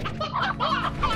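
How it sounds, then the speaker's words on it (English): Briar hens in the Slime Rancher video game clucking in a steady, busy run of close, fairly loud fowl calls with no talk over them. "Grab some of these briar hens."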